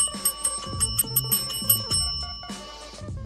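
A bell rings in a quick series of bright, metallic strikes, close and loud, then a final ring decays and fades out on its own.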